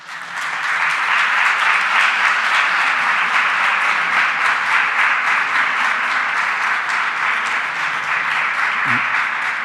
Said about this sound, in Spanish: Yo pido un aplauso para ella.